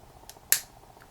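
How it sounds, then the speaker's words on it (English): A single sharp crack as a factory-torqued screw breaks loose on an OS FS 91 Surpass model engine, brief and close against quiet background with a couple of faint ticks. "That's the sound of a screw that was torqued at the factory."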